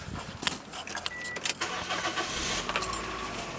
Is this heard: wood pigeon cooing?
no